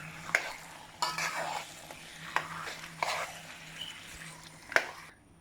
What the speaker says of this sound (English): I'm going to remove the pepper from it and just give that a little stir.